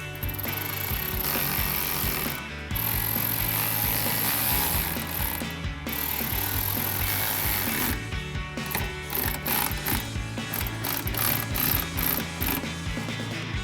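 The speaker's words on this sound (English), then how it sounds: "I'm going to take a T25 Torx socket to tighten these down." A T25 Torx socket on a ratchet drives screws snugly into plastic while fitting Amp Research PowerStep running boards on a 2007-2013 Silverado 1500, giving close, busy clicking and grinding bursts with brief pauses between.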